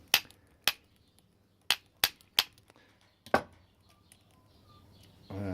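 A hammer tapping brass pins out of a metal part, six sharp, separate metallic knocks at irregular intervals in a quiet room, each with a short ringing decay.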